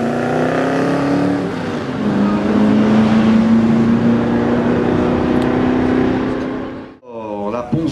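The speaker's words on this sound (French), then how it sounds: "maintenant c'est l'Oldsmobile de Yves Granget face à la Chevrolet Corvette de Pascal Marceau" An Oldsmobile and a Chevrolet Corvette accelerate in a drag race, a sustained loud engine roar with rising pitch that holds for several seconds, then drops away sharply before a brief tail of further engine noise; a commentator talks beneath it.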